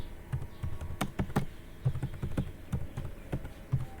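Fingers type on a computer keyboard in an irregular burst of crisp clicking keystrokes, close and clear, with short pauses between groups of taps and no talking.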